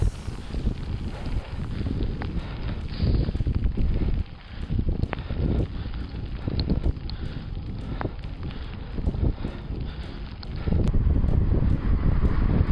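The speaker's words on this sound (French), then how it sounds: "Et là, coup de vent, c'est de la grêle." Heavy wind gusts buffet the microphone in loud surges, with a brief lull midway, while sharp clicks and patters of hail mixed with rain strike nearby.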